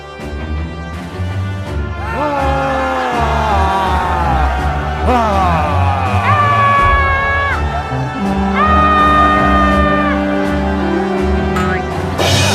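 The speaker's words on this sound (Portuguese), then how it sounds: "Todos começaram a gritar," A crowd in an animated Bible cartoon about the conquest of Jericho shouts loudly, with sustained yelling voices layered over a dramatic musical score throughout.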